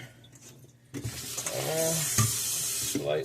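Cold water runs from a kitchen tap into a pot, starting abruptly after a quiet moment and rising as the pot fills, a close, steady splashing gush with a brief clunk partway through.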